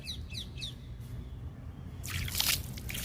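Liquid fertilizer pours onto a potted Kashmir rose with a soft trickling splash that swells near the end, faint and close, after a few bird chirps at the start.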